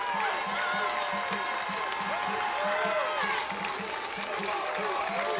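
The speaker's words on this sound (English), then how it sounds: "And the crowd really getting fired up here in Seattle." A Seattle stadium crowd cheers and claps at a college softball super regional, a sustained roar of noise with rhythmic chanting or stomping underneath, heard at a distance beneath a commentator's voice.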